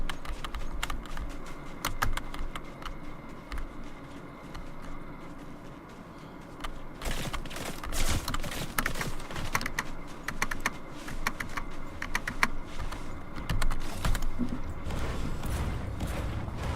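Rapid typing on a SteelSeries computer keyboard, a dense, continuous clatter of key presses that gets busier and louder partway through, with no talking.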